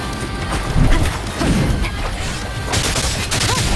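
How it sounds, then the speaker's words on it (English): Gunfire and impact bursts in the action game Wuthering Waves, dense and loud under a continuous wash of game effects, with a few sharper hits spread across the stretch. "Bam! More bullets for you."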